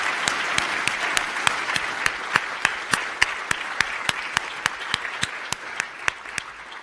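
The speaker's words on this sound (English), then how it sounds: "let's give a round of applause again to our speakers" Steady applause from a conference audience after a panel debate fills the whole stretch, with a few sharper individual claps standing out in a regular rhythm, no talking.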